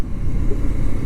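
A Kawasaki Z125 Pro single-cylinder motorcycle riding through city streets, its engine giving a low, steady rumble with a slightly pulsing texture, close and fairly loud, no talk over it.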